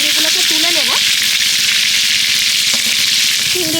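Loud, continuous sizzling of prawns frying in hot oil in a pan, with brief bits of speech heard over the crackle.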